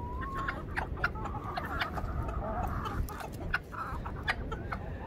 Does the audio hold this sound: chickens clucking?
yes